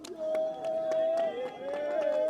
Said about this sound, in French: la foule qui motive son équipe, qui encourage Ramener de Toulion